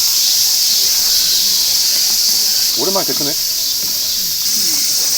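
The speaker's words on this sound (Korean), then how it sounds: "너무 시끄럽다. 그러니까 매미 소리가 장난 아니야." Loud, continuous high-pitched cicada buzzing at a tree-filled campsite in Korea fills the scene like a steady hiss, with a person's voice speaking briefly over it.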